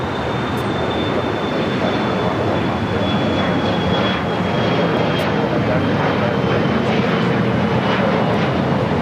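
An airliner takes off from runway 25 right at LAX, its engines making a loud, continuous broadband roar that stays steady and full for around nine seconds.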